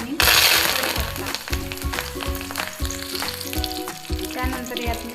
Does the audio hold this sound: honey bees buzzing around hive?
no